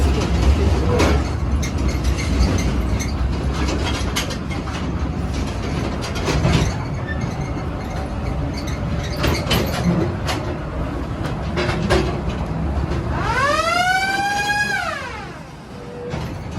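A gold mine train rumbles steadily along the rails through a tunnel with rattling clatter, then a rising and falling metallic squeal near the end.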